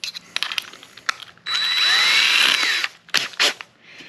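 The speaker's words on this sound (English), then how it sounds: "we'll go ahead and drill this one out. I'm going to go ahead and pilot this with a little pilot bit" A handheld power drill with a small pilot bit bores a pilot hole in wood for a birdhouse, a loud steady whir of about one and a half seconds between short trigger bursts and clicks.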